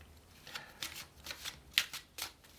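Tarot cards being shuffled by hand in a series of soft riffling bursts, about five quick flutters spaced roughly half a second apart, close and fairly quiet with no voice.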